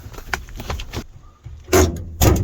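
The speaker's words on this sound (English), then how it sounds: "Close the door." Door of a 1986 Ford F350 crew cab dually truck, with rattling handling sounds followed by two loud, close slams a moment apart.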